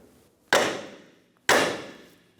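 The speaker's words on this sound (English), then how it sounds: "We're going to hit right here with a hammer to release the ball joint out of the knuckle." Two sharp metallic hammer blows strike the steering knuckle of a 2003-2007 Infiniti G35 to pop the lower rearward control arm's ball joint loose, each a loud close crack about a second apart with a fading ring.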